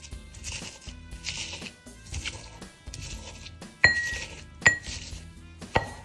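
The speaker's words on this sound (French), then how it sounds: "on va moudre tout ça avec le pilon." A pestle grinds guacamole ingredients (avocado, coriander, coarse salt) in a mortar, making rhythmic scraping strokes about every half second, followed by a few sharp clinks. The sound is soft and close, with no talking.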